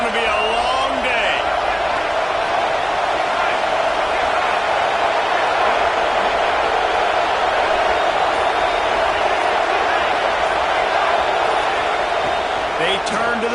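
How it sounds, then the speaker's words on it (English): A loud stadium crowd roars full-throated in a football video game, a dense, steady wall of cheering that holds without a break for the whole stretch. "This crowd, full throat, splitting the eardrums and letting them know it's going to be a long day."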